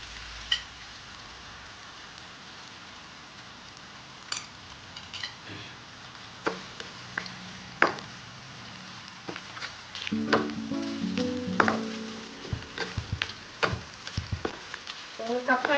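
Chopped onions sautéing in a pan with salt for chicken biryani, a steady low sizzle with scattered utensil clicks and taps, growing busier and louder with stirring scrapes toward the end.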